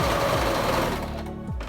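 A sewing machine motor whirs loudly and continuously while stitching a fabric face mask, slowing and winding down near the end, no talking.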